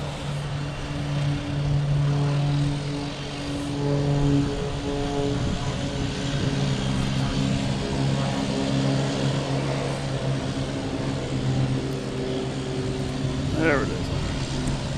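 A Cape Air Cessna propeller plane at Logan Airport gives off a steady, droning engine hum with a faint rise near the end, while voices talk over it.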